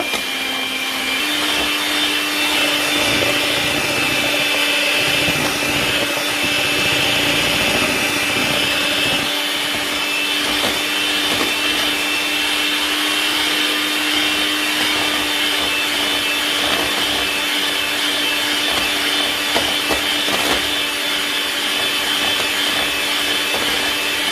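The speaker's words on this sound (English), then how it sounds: "Okay, so I continue to give it a quick blend." Electric mixer blending red velvet cake batter of beaten eggs and sugar, a continuous whirring drone held at steady loudness and close by for the whole stretch, with no voices.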